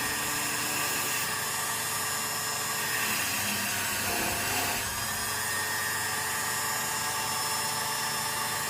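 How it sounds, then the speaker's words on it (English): Wire brush on a spindle cleaning a freshly cut key, a steady loud whirring motor hum with a brief change in the middle, close and continuous without talk. "It's actually a wire brush on the other end of the spindle."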